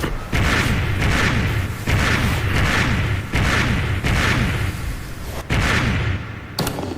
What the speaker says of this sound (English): Just listen to these punches.